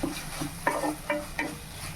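Mushroom curry is stirred in a pan with a few short, close scraping strokes of a spoon, roughly evenly spaced over a low background hiss.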